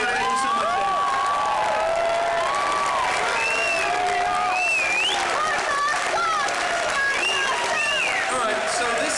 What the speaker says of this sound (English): Please give everyone a round of applause.